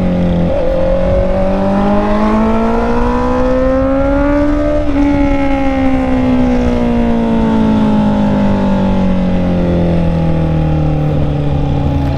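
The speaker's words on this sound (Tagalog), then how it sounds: "Sarap naririnig ng motor." A Honda CB650R motorcycle's engine hums loud and close as the rider cruises, its pitch climbing smoothly, dipping briefly on a shift, then sinking slowly as the bike eases off, a continuous drone with wind rush.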